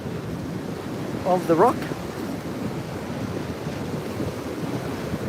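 Ocean surf breaking along the shore at Currumbin on the Gold Coast, Queensland, a steady wash of waves with wind buffeting the microphone throughout, while someone briefly speaks and whistles up close over it.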